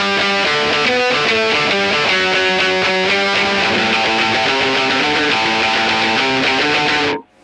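Electric guitar through a POG octave pedal and a Kemper on a Bassman model with fuzz distortion, playing thick, sustained chords and notes continuously for several seconds before cutting off abruptly.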